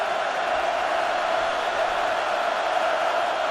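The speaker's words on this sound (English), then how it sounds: "now the crowd urging on that Husker defense once again after the turnover on downs" A stadium crowd at a Nebraska Cornhuskers college football game against Oregon roars steadily to urge on the Husker defense, a sustained, loud, even wall of cheering with no break.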